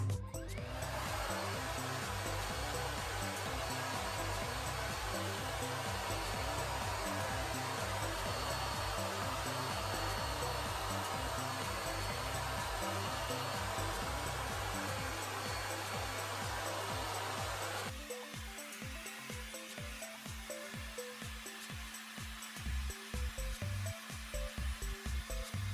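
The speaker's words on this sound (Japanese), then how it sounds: "ドライヤーを使っていきます。" A YA-MAN Veda Bright hair dryer blows loud and steady at close range for most of the stretch, then drops to a lower setting with a fainter, rougher airflow toward the end.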